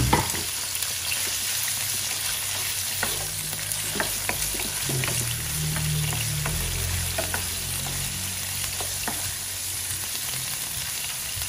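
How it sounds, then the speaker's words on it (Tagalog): Pork sautéing in hot oil for a ginisang ampalaya dish gives a steady, loud sizzle with sharp scraping stirs and spatula taps scattered throughout, no voices. "Isutay natin ang ating pork."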